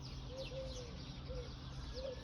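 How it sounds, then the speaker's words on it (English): Outdoors in nature, birds give soft, short whistled calls at intervals, a few chirps heard over a steady broadband background hiss. "I love the sound of the birds."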